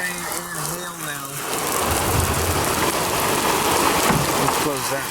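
Dense, loud rain and hail roar and patter on a surface during a storm at a lake campsite, with a voice speaking briefly at the start and again at the end.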